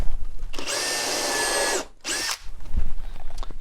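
A power drill with a self-centering hinge bit bores a hole in desk wood: a steady whirring run of about a second and a half, a brief pause, then a shorter second burst, loud and close.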